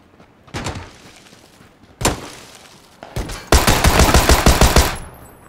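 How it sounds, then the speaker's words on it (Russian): Tommy gun firing in PUBG, with short single shots and bursts followed by a long rapid automatic burst, loud and close. "Я стреляю с Томса."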